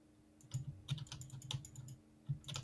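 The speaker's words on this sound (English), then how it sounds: "Oh, it's not Augie typing and making the noise." Computer keyboard typing, fairly quiet and close, in irregular clusters of clicking keystrokes with short pauses between bursts.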